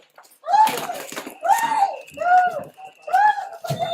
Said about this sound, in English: You can hear that screaming.